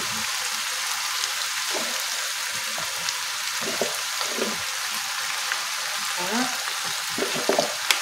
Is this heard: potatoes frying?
yes